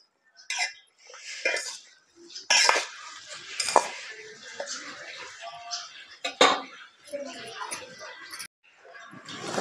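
A spoon clinks and scrapes against a dish as spices are added to homemade lemon pickle, with scattered metallic taps and stirring, close by, with a voice speaking now and then.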